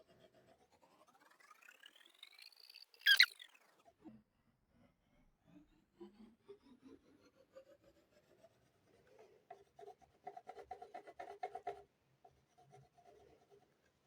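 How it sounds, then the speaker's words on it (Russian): A pencil scrapes and rubs across a small paper box while colouring it, faint scratchy strokes in short irregular bursts, close up and quiet. "Я разрисую ее карандашом"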